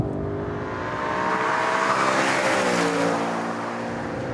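An Audi RS5 engine revving hard, a loud, sustained rising then falling mechanical roar with strong harmonic whine, heard up close for several seconds with no talking.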